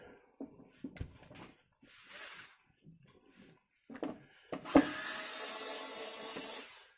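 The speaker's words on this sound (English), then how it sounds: "let's take out all the screws and see if we can get this thing open" Screws being taken out of the bottom of an air fryer during a repair: scattered close clicks and scraping bursts of a screwdriver, with short gaps, ending in a longer steady rasping whir.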